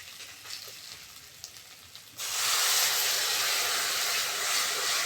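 A splash of water hits frying ginger-garlic masala in the pan, and after a quiet simmer a loud, sustained sizzling hiss suddenly bursts up and continues close by.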